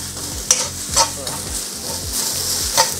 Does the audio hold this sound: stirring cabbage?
yes